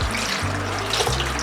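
Water poured into a blender for a breakfast smoothie: a brief, steady splashing stream filling the jug, close and moderately loud with no voices.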